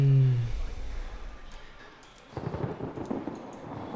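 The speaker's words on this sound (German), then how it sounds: "Kleiner Donner." Thunder rumbles in the horror video game Outlast, a low deep roll that fades and then returns as a softer, grainier rumble in the distance, with no talk over it.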